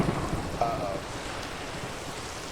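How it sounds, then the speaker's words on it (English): Minecraft rain falls as a steady broad hiss throughout, with a brief spoken reaction at the start and no thunder evident. "now it's raining while sunny in the game"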